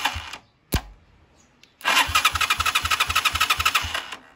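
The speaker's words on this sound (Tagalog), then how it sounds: "Nagre-respond yung ating yung starter natin." Electric starter on a motorcycle cranks the engine after a couple of brief clicks, a fast pulsing whirr of rapid even compression beats running for over two seconds, close and loud.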